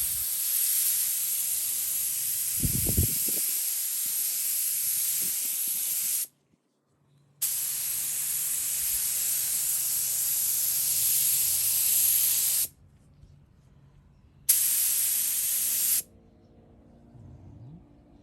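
A spray gun lays a second coat of urethane candy paint on a model car body. Close, steady hissing bursts run several seconds each, cut by short silent pauses, with faint low handling noise between passes.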